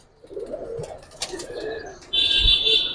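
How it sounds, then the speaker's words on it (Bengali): Giribaz pigeons of the original strain coo softly with low murmuring calls, close by, joined near the end by a brighter sustained tone and a brief thump. "এগুলো হলো অরিজিনাল কবুতর।"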